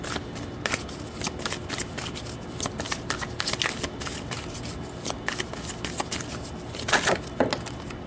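Tarot cards are shuffled by hand in rapid, crisp riffles and flicks, close and fairly loud, with papery slaps and patters coming in uneven bursts and no speech over them.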